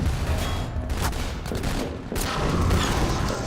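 Alyx firing her gun during a Half-Life 2 prison fight, loud rapid bursts of gunfire crackling almost continuously with brief pauses, close and dense throughout.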